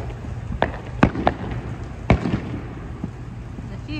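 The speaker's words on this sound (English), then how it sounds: "And a few fireworks to top off the night." Scattered Fourth of July fireworks crack and pop at a distance, a handful of sharp bursts over a low background hum.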